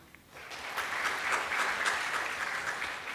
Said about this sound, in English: A big round of applause to Mr. Ratnakar Samant and Mr. Keshavacharya